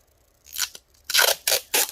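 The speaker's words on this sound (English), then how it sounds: "to make it extra secure, what I do is I'll get another piece of tape." Adhesive tape is torn off in quick, crisp rips, one short pull followed by three sharper strips, close up, during a hard drive upgrade on a 21.5-inch mid-2010 iMac A1311.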